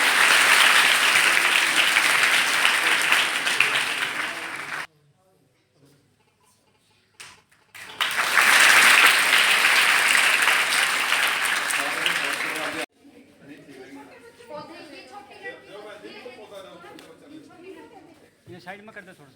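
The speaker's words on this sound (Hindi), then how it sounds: "जोरदार तालियां हो।" Loud audience applause at a school memento presentation during an SDM's visit to a gurukul, two long bursts separated by a near-silent gap, then chatter and low talk as people arrange for photos.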